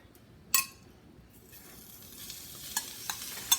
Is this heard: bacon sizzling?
yes